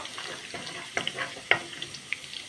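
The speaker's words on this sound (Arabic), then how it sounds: "ادي التوم اهو مع معلقتين السمنه البلدي ومعلقتين زيت ذره" Garlic frying in country ghee and corn oil in a pan sizzles softly and steadily, with several sharp pops and crackles scattered through it, heard close and alone.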